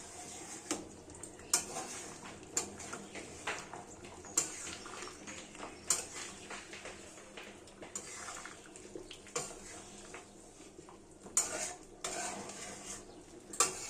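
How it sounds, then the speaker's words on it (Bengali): Chopped coriander leaves being stirred into a chui jhal chicken curry in a pot, with repeated clinks of a spoon against the pan over a soft, steady cooking hiss, alone without voices. "ধনে পাতাটা সমস্ত কিছুর সাথে খুব ভালোভাবে মিলিয়ে মিশিয়ে নেব"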